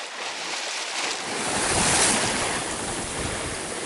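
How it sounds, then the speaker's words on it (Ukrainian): Moderate southerly wind gusts buffet the microphone by the sea over the broad rush of surf, swelling and easing in a steady outdoor roar. "Ну, вітер південний, але він не сильний."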